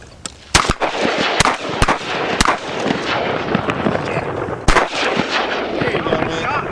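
Gunshots ring out during a duck hunt in a flooded field, several sharp, loud reports in an irregular burst and then one more a few seconds later, over outdoor rustle.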